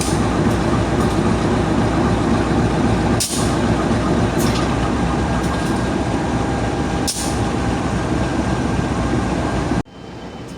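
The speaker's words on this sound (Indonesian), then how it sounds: "detik-detik kereta api Logawa diberangkatkan" A passenger train departing Purwokerto station, Indonesia, rumbles loudly and steadily nearby, with a few sharp metallic hisses or clanks, before the noise suddenly drops.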